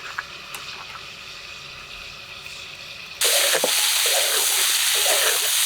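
Ginger and chilli paste hits hot oil tinged with turmeric and salt in a pan, a quiet hiss suddenly jumping to a loud, bright, steady sizzle with occasional stirring scrapes.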